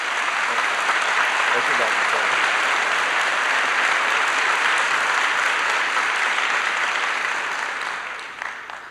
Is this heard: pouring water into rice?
no